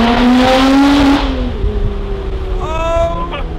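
A Lotus Exige Sport 380 with the roof off revs hard on fresh tarmac, its engine note sweeping up and then dropping back. It is loud and close, with rising tones near the end as it climbs again.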